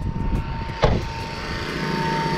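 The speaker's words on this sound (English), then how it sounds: "Pressure washer connected to the generator." A pressure washer runs off a generator while a Dodge Hellcat Charger is being detailed, producing a steady droning engine hum with a brief louder burst partway through, heard without speech.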